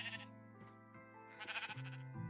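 Sheep in Minecraft bleat in a few short wavering calls, close and clear, with a quieter bleat at the start and a louder run of bleats near the end.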